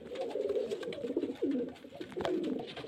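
Pigeons cooing at close range, soft throaty murmurs repeating in overlapping phrases over a continuous low background bustle, with no talking.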